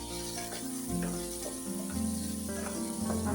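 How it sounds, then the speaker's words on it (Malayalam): Vegetables for a veg pulao sizzle and fry in a pan as they are stirred, a steady soft crackle running beneath music throughout. "നന്നായിട്ടൊന്ന് ഇളക്കി."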